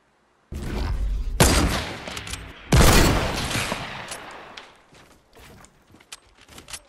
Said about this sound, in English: I'm gonna shoot this one, and if I miss, then I'll have hunting rifle.